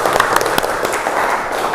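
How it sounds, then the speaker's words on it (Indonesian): Classroom of students applauding together, a brief burst of dense, steady clapping heard fairly close. "Tepuk tangan."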